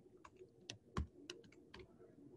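Computer keyboard typing at a quick, irregular pace, a handful of separate key clicks with one louder strike near the middle, fairly quiet and close, with no voices.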